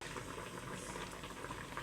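Water boils steadily in a pot with chapati pieces for a village-style madigadabu sweet, a continuous close bubbling and simmering with no voices.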